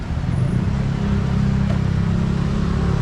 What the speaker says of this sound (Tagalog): ayan so yun, yan ang motor natin